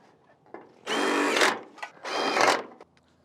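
A power drill drives a screw into concrete to fix a downspout clip, two loud sustained whirring bursts of about half a second each separated by a short pause, close and alone.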